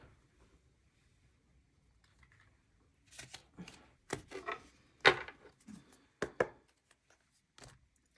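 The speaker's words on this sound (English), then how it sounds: "So let's do this and then cut it with this top section on top." A tarot deck handled and cut by hand, soft card slaps and riffling taps in an irregular cluster of close, crisp clicks after a quiet start.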